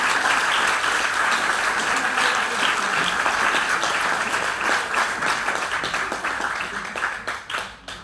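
A crowd at a talk on the virtues of prayer applauds to thank a speaker named Chantal, with loud, thick clapping that stays full for several seconds before thinning into scattered claps and dying away.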